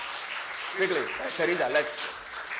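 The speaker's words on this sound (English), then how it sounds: "Clap for them." Scattered audience clapping in a church service, a soft continuous patter under a nearby voice speaking over it.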